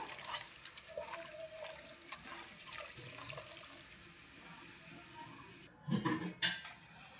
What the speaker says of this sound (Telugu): కొంచెం ఒక టీ గ్లాస్ నిండా నీళ్ళు వేసుకుందాము